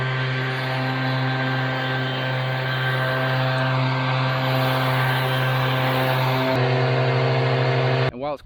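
An Echo PB9010 backpack leaf blower runs at a loud, steady high-revving drone with a strong engine hum, shifting pitch briefly near the end before cutting off abruptly.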